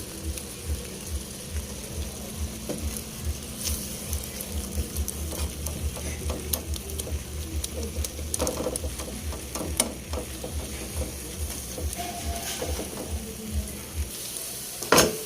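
An egg fries in a pan with a close, steady sizzle and scattered crackling pops, while a rapid mechanical ticking pulses underneath until near the end.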